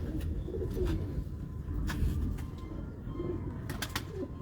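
Pigeons of a well-known breed in a loft in Gujrat, soft repeated low coos close by, with occasional faint chirps and background hum.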